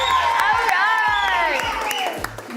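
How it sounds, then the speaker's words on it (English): A crowd cheers and whoops for youth flag football world champions from boys 9U, girls 14U and girls 16U teams, loud raised voices with clapping mixed underneath throughout. "One more round of applause, you world champs."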